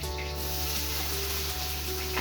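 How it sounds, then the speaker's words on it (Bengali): Onions fry in hot oil in a kadai while cooking a rohu (katla) fish-head muri ghonto, giving a steady, close crackling sizzle with a low background hum. "এখন পেঁয়াজগুলো একটু লাল লাল করে ভেজে নেওয়া হচ্ছে।"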